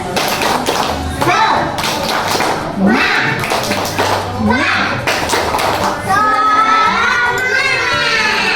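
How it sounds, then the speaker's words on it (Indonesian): Classroom of children doing a rhythmic spirit clap, sharp hand claps and taps in a patterned beat, loud and close, with kids' voices chanting and talking throughout. "Tepuk semangat dulu, tepuk semangat."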